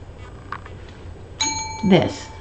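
A handmade Halloween blessing bell rings out once in a clear, bright chime that hangs and then gets brushed or damped, set against low background noise.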